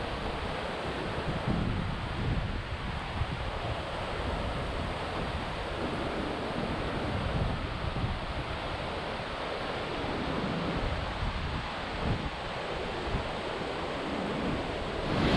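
Roaring water at Liêng Nung falls, heard from a spot behind the falling curtain: a steady, dense, loud rush with no pauses, filling the whole clip without any voices.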